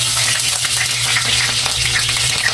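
Potatoes frying in a pan for chicken adobo, a loud close sizzle that crackles steadily throughout with faint stirring.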